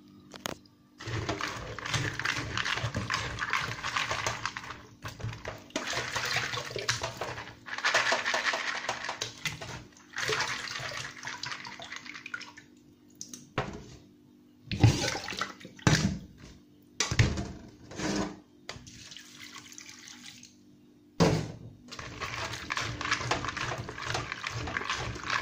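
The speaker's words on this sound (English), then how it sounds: "Now I'm washing my beans." Dry beans being washed by hand in a bowl of water while making beans and plantain, with close splashing and rubbing that comes in repeated bursts separated by short pauses.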